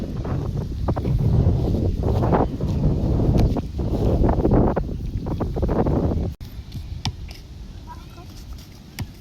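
Strong gusty wind buffets the microphone outdoors during kite flying, heavy low rumbling roars for about six seconds before dropping abruptly to quieter rustling.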